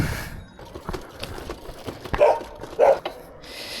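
A couple of sharp dog barks ring out over a muffled, rumbling background, spaced about half a second apart.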